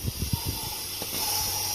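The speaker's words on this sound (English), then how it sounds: "We'll just spray it down." Degreaser sprayed onto oily car engine parts gives a steady pressurized hiss, preceded by a few short bursts of spray.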